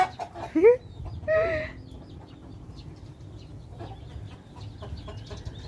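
Chickens cluck in a few short bursts near the start at a chicken coop, then a low farmyard murmur continues with faint scattered clucks in the background.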